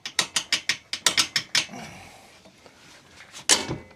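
A ratchet tightens a supplied 3-inch bolt while a ThumperFab bumper is fitted to a Polaris 570 Ranger Mid-Size UTV: about a dozen quick, close clicks in a steady rhythm, a brief pause, then one final loud click.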